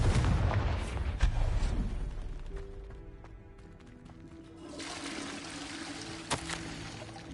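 A Confringo fire spell from Hogwarts Legacy erupts in a loud, booming fiery blast that rumbles off, followed by a second surge of crackling noise and a sharp crack near the end.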